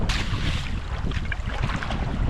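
Strong wind blows constantly against the microphone while pack rafting down an icy Alaskan river, a loud, rough, unbroken roar.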